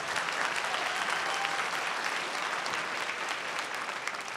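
Steady, dense audience applause fills a town hall on benefits and billionaires in New Jersey, loud and continuous throughout with no talking over it.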